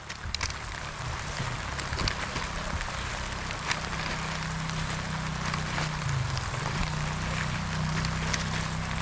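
Rain falls steadily over a rice-farming area during harvest, a constant soft hiss with scattered drop ticks and a low background hum.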